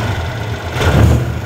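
An Aprilia SXR 160 scooter engine runs at a steady low idle, close and fairly loud, with a slight swell in revs partway through.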